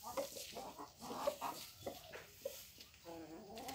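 Desi hens, alongside Aseel cross chickens, cluck softly and intermittently in a farm setting, with faint, scattered clucks and low calls throughout.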